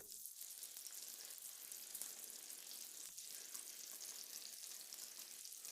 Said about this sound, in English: while this is already sizzling away